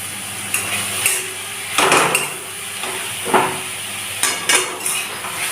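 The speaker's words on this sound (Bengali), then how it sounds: "এবার আমি কড়াতে আরেকটু নাড়াচাড়া করেই নামিয়ে ফেলব" Red spinach leaves being stirred in a wok, with several distinct scraping clatters of the spatula against the pan over a faint steady sizzle, no voices.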